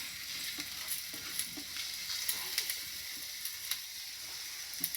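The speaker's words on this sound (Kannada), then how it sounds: "ಇವಾಗ ಇದನ್ನು ಫ್ರೈ ಮಾಡಬೇಕು" Byadgi chillies, cumin and cloves fry gently in a pan, giving a soft, steady sizzle with scattered small crackles and pops, fairly quiet and close.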